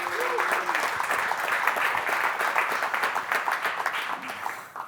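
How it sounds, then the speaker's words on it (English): An audience at a music mixing conference applauds to welcome a speaker, dense sustained clapping with some crowd murmur and a faint voice underneath, tapering off at the end. "One more round of applause."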